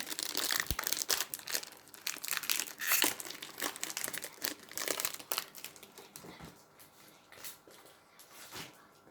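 Foil of a Pokémon card booster pack crinkling and tearing as it is opened, continuous close crackling with sharp crisp bursts that gradually get quieter.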